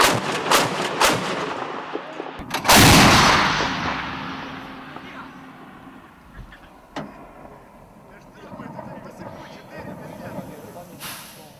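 Heavy gunfire from an S-60 anti-aircraft gun: several sharp, loud booming bursts early on, then a long rumbling tail with scattered fainter shots and distant voices.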